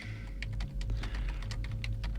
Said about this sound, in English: I'm just typing in Waffle House Tampa.